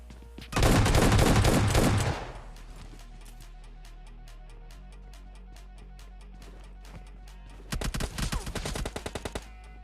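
Gunfire in PUBG Mobile Lite, including shotgun shots: a loud rapid burst of automatic fire, then a long run of sharp single reports, and another fast burst of shots near the end, all close.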